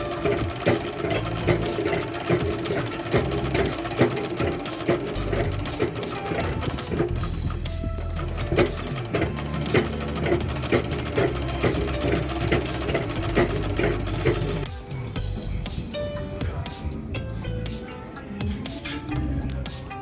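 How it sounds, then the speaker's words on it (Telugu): A sewing machine stitches a fall onto a saree in a fast, continuous rattle of needle strokes, close and loud, briefly thinning and changing texture near the end. "ఇక్కడి నుంచి ఫాల్ పై భాగంలో కుట్టి ఇలా వేసుకోవాలి."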